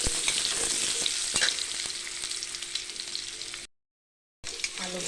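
Potatoes fry in a pan with a steady broad sizzle, stirred now and then, close and fairly loud, with no talking; the sound cuts out briefly near the end and then returns.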